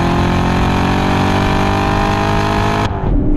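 A Corvette C7 at full throttle on a straight at a Las Vegas racetrack gives a loud, sustained high-revving engine roar heard from inside the car, ending abruptly as the note drops near the end.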